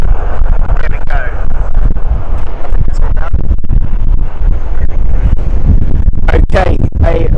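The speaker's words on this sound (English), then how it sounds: "I think it's safe to say it is windy today here, folks." Strong wind pounds against a microphone outdoors in London, producing loud, continuous rumbling buffets with gusty bursts throughout, and a voice talks briefly beneath the roar.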